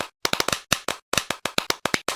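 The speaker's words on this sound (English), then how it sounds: "if you press V, you can clap" Claps in a video game ring out as a quick series of about fifteen crisp, close hand claps in uneven bursts, with short gaps between them and no speech.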